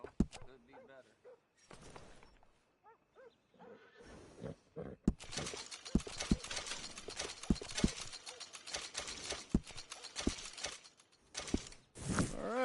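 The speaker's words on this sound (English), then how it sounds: "You got yourself a deal. And a fine new horse." Horse hooves clip-clop in the Red Dead Redemption 2 video game, a loose run of sharp knocks under game dialogue and background noise, growing busier and denser in the second half.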